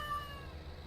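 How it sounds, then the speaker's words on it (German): A cat in the farming game Farming Simulator 17 gives a single short, clear meow over a low rumbling background. "Katze."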